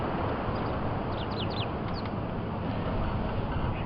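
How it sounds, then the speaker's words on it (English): Several short, soft cooing bird calls from ring-necked doves sound in a cluster early on, distant over a steady rush of wind and bush ambience. "A few ring-necked doves."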